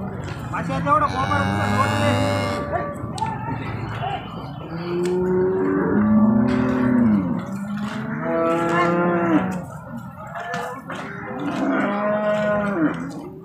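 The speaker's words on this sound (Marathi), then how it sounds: "प्युअर एचएफ क्वालिटीची गाय मित्रांनो" A Holstein Friesian cow at a cattle market moos several times, long, deep drawn-out calls close by with short pauses between them.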